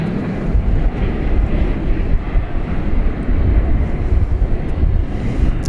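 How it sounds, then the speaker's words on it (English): A Volaris Airbus A320 airliner arrives at Dallas Fort Worth International Airport at night, a loud, deep, continuous engine rumble buffeted by wind noise throughout, with no talking. "That flight coming in from Guadalajara, an Airbus A320, flight number 1802."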